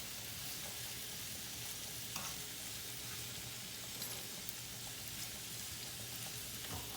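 Vegetables sauteing in oil in a pan, a faint steady sizzle with soft occasional stirring scrapes, quiet and continuous.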